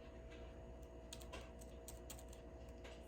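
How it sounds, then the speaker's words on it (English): Keys are pressed on the front panel of a HIMS BrailleSense 6 braille notetaker, a faint series of light, irregular clicks over steady low hum. "I can push any key on the front panel"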